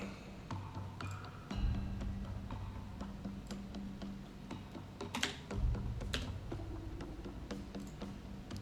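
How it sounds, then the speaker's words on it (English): Steady clicking of typing on a computer keyboard, close and fairly quiet, with a low hum underneath throughout and a couple of louder thumps along the way. "Yeah, typing stuff"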